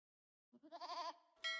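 A sheep or goat in the Age of Empires strategy game gives a single wavering bleat, clear and close, followed by a brief bright game chime.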